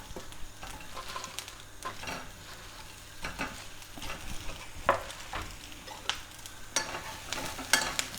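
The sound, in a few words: prawns frying in a pan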